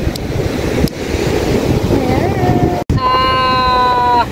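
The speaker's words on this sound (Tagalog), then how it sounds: "Gilid ng dagat dito sa amin." Sea waves wash along a sandy shore beside houses under construction, a steady broadband surf roar with wind buffeting the microphone, while a faint tonal whine rises near the end.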